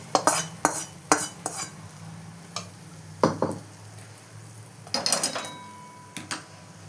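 Hot oil tempering poured into tomato chutney and stirred in a pan: sharp metal spoon clinks and scrapes over a soft sizzle, in separate bursts.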